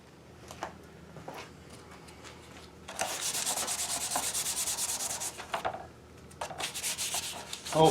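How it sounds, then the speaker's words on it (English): Rhythmic scratchy strokes of sandpaper on copper beech wood, quiet at first, then a sustained louder run of rapid rubbing that stops and resumes. "I've been sanding on this for a minute or two"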